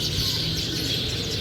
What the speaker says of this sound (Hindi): कितना इस टाइम चिड़ियाओं ने शोर मचाया हुआ है।